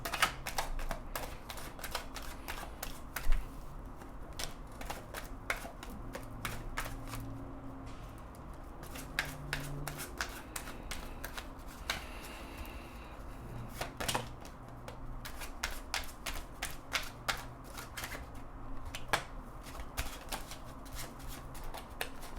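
Tarot cards are shuffled by hand in a quiet room, a long run of soft, rapid riffling and flicking clicks in irregular bursts, close and fairly faint.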